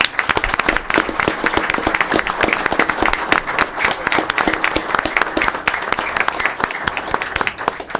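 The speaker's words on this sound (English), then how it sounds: "One more round of applause." Loud, dense applause from a crowd at a gathering, many hands clapping in a continuous rapid patter that holds steady throughout.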